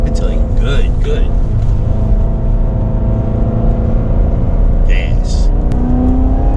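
Chevrolet Corvette C7 Z06 engine on an autocross slalom course, a loud continuous drone that rises and falls as the throttle comes on and off, with an instructor talking over it.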